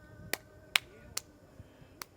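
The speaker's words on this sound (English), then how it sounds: "Hands clapping." Four separate sharp hand claps spaced about half a second apart during a guided self-massage exercise, crisp and close in an otherwise quiet room.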